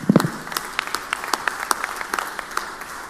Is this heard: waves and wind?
no